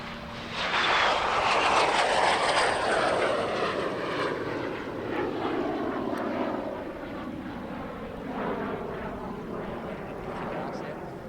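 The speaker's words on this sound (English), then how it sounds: "Intanto il T-33 è ancora in volo sopra le nostre teste." A Lockheed T-33 jet trainer passes overhead at an Italian Air Force airshow, its loud, broad engine roar swelling in the first seconds and then holding steady as it slowly fades, with faint voices in the background.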